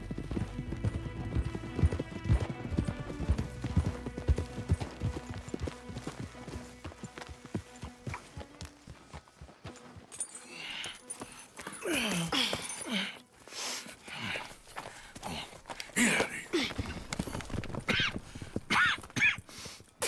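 Rhythmic horse hooves clip-clop steadily in the video game Red Dead Redemption 2, with a horse snorting and whinnying; the later half grows busier and more uneven.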